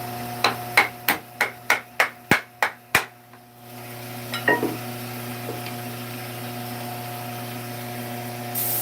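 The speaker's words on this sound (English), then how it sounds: "a big fancy bowl I probably wouldn't put and hit against the lathe, but these are so small, they're very durable" A small wooden bowl, newly turned on a lathe, is knocked against the lathe about eight times in a quick, even series of sharp, close knocks, followed by a quieter clatter and a steady hum from the workshop.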